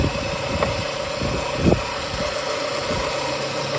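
A bracket racing Ford Mustang's engine idles steadily while warming up, a continuous close mechanical drone with a faint vibration and a brief louder knock partway through, no voices.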